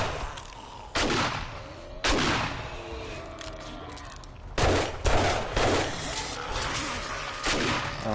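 Loud single gunshots from a zombie shootout in the survival game 7 Days to Die, about six sharp blasts spaced irregularly over a noisy game background.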